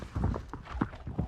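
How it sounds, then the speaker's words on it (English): Footsteps of sprinting players in the video game Delta Force, heard as a quick series of soft, irregular thuds during a competitive match. "They've got to hear the footsteps here."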